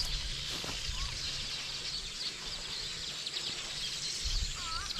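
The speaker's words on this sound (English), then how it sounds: "the beautiful sounds of the birds" Birds calling in an open outdoor area, with a few faint chirps and whistled notes scattered through steady ambient noise, no voices.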